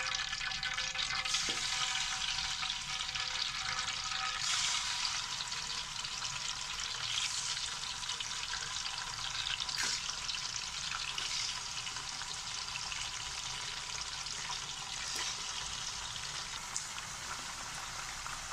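Chicken frying in about 1.5 cups of hot oil in a kadai while a spoon stirs it, a dense, steady rain-like sizzle with occasional faint scrapes, close and constant.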